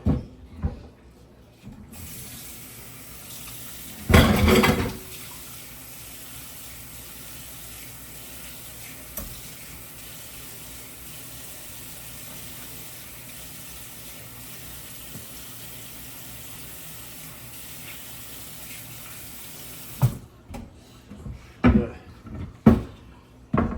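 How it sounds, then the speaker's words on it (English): Running tap water in a sink rinsing a vegetable cutting board, a steady continuous hiss of flow lasting most of the clip, with a brief clatter near the start and clunks and handling noises after the water stops. "I want to rinse out my board."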